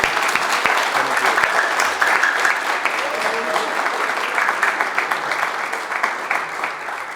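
Sustained applause from a graduation ceremony audience, steady hand clapping from a sizeable crowd that stays loud throughout and thins slightly toward the end.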